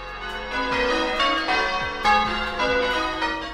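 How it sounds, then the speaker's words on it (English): Church bells ring loudly and continuously, several tones overlapping in a rich, resonant peal with fresh strikes every fraction of a second. "I want my main sound to be a church bell"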